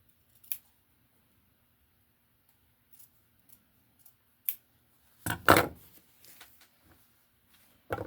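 Scissors trimming loose threads on sewn cloth period underwear, a few quiet, isolated snips spread apart, then a louder burst of cutting and handling near the end, close in an otherwise quiet room.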